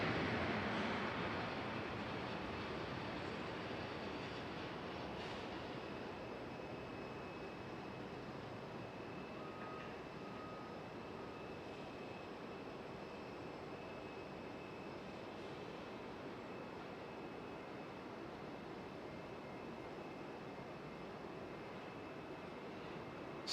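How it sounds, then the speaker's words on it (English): A Southwest airliner departing Raleigh-Durham International Airport gives a steady, distant jet engine roar that stays broad and even throughout, with no talk. "We also have Southwest departing on the right side here."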